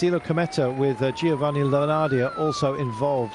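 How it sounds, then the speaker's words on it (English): Wailing emergency sirens sweep up and down at the finish line of a professional road cycling stage race in San Juan, Argentina, loud and continuous beneath a commentator talking. "wailing sirens that are going through your heads at the moment."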